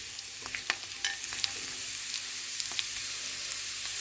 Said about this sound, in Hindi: जब तक हमारे ड्राई फ्रूट्स फ्राई हो रहे हैं